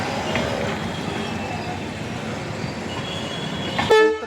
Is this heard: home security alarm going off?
no